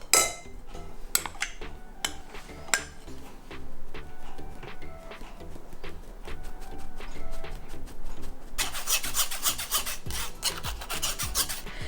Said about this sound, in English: you're going to need to sieve the chickpea flour into the large bowl